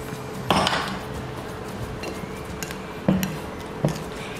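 A spatula stirs food in a pan, with a few scattered metallic taps and clinks over a quiet kitchen background.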